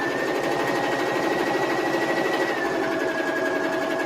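A sewing machine stitches fabric for a napkin holder with a steady, fast mechanical whir and a rapid needle chatter, running close and continuous without pause.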